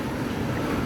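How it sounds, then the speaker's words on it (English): Loud, dense rushing water roars up close at a water park lazy river as an explosive waterfall crashes down, a continuous wash of noise with no voices. "up ahead is an explosive waterfall"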